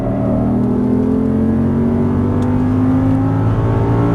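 An Audi R8 V10 accelerating out of a left-hand turn on a track, its engine a loud, continuous rising whine and roar heard up close with no talking.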